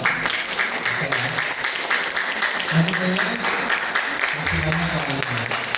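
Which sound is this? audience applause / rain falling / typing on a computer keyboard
audience applause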